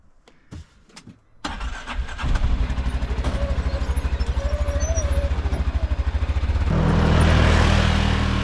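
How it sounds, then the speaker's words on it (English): A side-by-side UTV engine starts with a few sharp cranks, then settles into a rough, pulsing idle that revs up louder as the vehicle is driven off a trailer, close and alone. "Get this side-by-side off the trailer"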